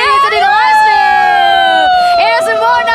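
At the Valhalla World Cup 2024 offline esports grand finals, a loud, sustained voiced yell of celebration rings out over a crowd murmur, rising and falling in pitch for a few seconds.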